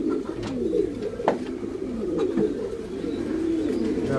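Pigeons coo in a loft at a pigeon farm in Mirpur, Dhaka, giving soft, overlapping rolling calls up close, with a few sharp clicks and flutters between them.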